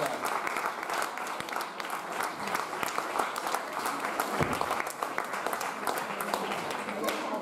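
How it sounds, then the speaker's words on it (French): A crowd at the Miss Beauté Franche-Comté 2019 pageant applauds the candidates, a steady, dense wash of clapping heard from some distance that continues throughout, with voices faintly underneath. "je vais vous demander de les applaudir très fort, nos candidates"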